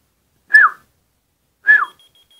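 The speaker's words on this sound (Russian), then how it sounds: "Давайте попробуем свистнуть." A person whistles twice, each short rising-falling note answered by a whistle-responsive keychain that beeps with a steady high electronic tone after the second whistle.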